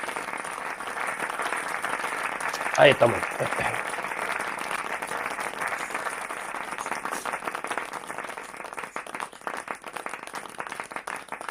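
A short burst of audience applause rises at an online masterclass on agile change management, sparse and fairly faint, with a speaker's voice around it.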